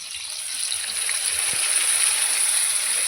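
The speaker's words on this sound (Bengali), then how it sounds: "একটু বাটিটা জল দিয়ে ধুয়ে দিয়ে দেবো মশলাগুলো" Water pours into a bowl to rinse out ground cumin, ginger, garlic and onion paste, a steady close splashing gush that holds level for a few seconds.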